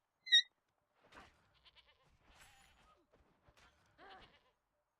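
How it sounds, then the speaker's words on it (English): A single short, high goat bleat at the start in the video game Conan Exiles, then quiet scattered footsteps and faint rustling noises. "bypass some of these goats"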